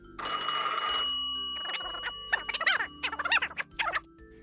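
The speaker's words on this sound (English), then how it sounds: "The phone is just making a squiggly noise." Telephone sound effect: a burst of bright buzzing tone for about a second, then a run of warbling, squiggly electronic chirps in quick irregular bursts, close and clear with no talk.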